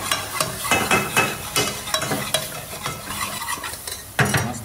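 Masala spice mix stirred and frying in a hot pan before crab goes in, a loud sizzle broken by repeated scraping strokes of a spoon against the pan, close up.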